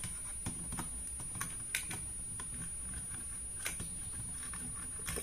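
Scissors pry at the plastic shell of a small electric toy car, producing faint, close, irregular clicks and scrapes like light tapping, with no talk.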